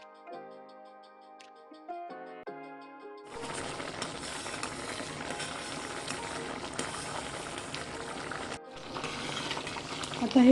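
Sago pearl kheer with saffron simmers in a pot, a dense continuous bubbling hiss that follows a few seconds of soft tonal, music-like notes, with a short break near the end.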